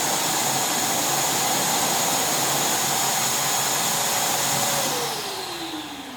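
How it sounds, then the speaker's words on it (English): A wet and dry vacuum cleaner roars steadily at close range with a loud, constant whine, its pitch dropping slightly as the motor winds down near the end. "start the vacuum cleaner"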